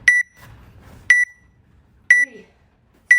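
A workout countdown timer gives four evenly spaced sharp electronic beeps about a second apart, loud and close, with faint background noise between them.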